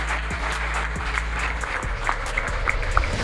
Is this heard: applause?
yes